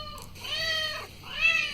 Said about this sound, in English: I was feeding my cat.